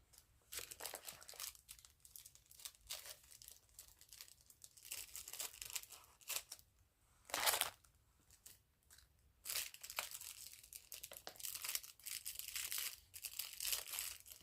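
Scissors snip through crinkly plastic packaging up close, with bursts of crackling and tearing between quieter pauses.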